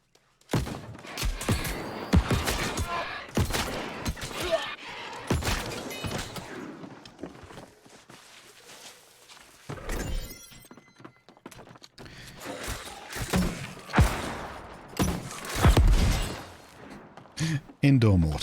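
Mortar explosions go off indoors in the MMO game New World, with repeated booming blasts spread irregularly through the clip while people talk over them.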